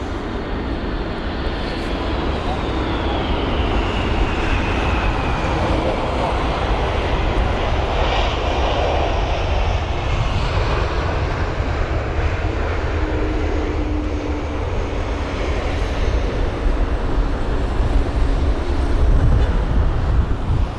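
A DHL Airbus A300 freighter from Amsterdam lands at London Heathrow in windy conditions, its engine roar broad and sustained for the whole stretch, mixed with gusting wind noise on the microphone.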